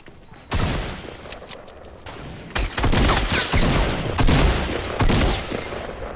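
Rapid automatic gunfire from a Fortnite battle crackles in loud bursts, broken by brief gaps, with dense volleys that stack close together and carry on to the end.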